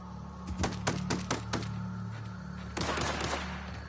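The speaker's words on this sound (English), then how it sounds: "Here we go. Open fire!" Rapid gunfire bursts from the video game The Outer Worlds, with several sharp shots in quick succession followed by a denser volley after a short pause.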